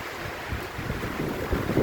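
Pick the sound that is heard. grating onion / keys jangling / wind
wind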